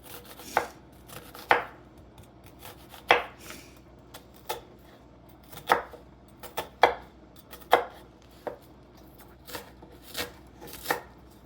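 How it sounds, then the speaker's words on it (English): A knife chops vegetables for chorizo chili beans on a cutting board, a dozen or so sharp, irregular, close knocks spread across the span with quiet gaps between, no talking. "And rinse this off. Okay. And then chop it."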